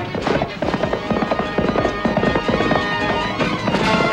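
Rapid hoofbeats of several soldiers' horses galloping close by in a Zorro cartoon, a dense, continuous clatter with no voices.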